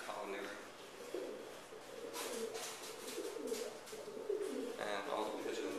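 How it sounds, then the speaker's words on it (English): Pigeons in a behavioral laboratory colony room coo softly and repeatedly, a low, throaty, rhythmic murmur layered from several birds, with scattered wing flutters and faint room noise. "And all the pigeons are here."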